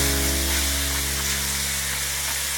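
Chicken pieces fry in leftover grease and oil in a pan while cooking creamy Tuscan chicken, giving a loud, continuous close-up sizzle with a low steady hum underneath and no talking.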